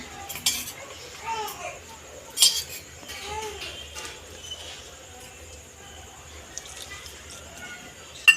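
A spoon stirs spice powders into aubergine and potato in a pan with quiet scrapes and clinks against the metal, some louder knocks, and faint speech in the background.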